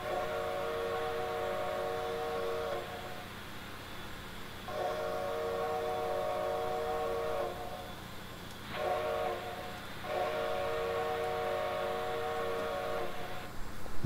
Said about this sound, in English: And of course our whistle.